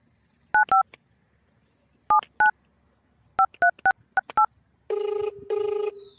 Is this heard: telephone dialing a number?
yes